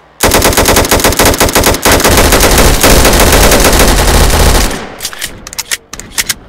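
Rapid automatic AR-15 rifle fire in a video game, a loud continuous burst of shots lasting several seconds, then stopping and leaving a few scattered fainter pops and clicks.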